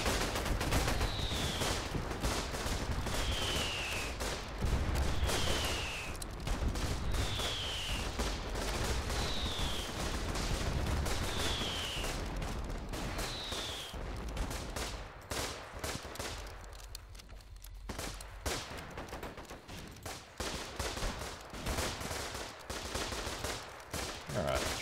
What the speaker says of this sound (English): That sounds like artillery.